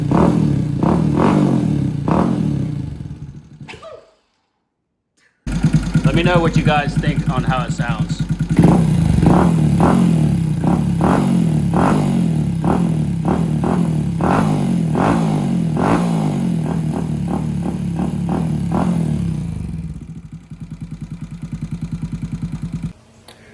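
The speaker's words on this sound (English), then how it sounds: "now that it's warmed up, let's give it some revs." A Honda Dax motorcycle engine with a 149cc big bore kit idles with a rapid chugging beat, then revs up and down repeatedly, loud and close, with a brief spoken line near the end.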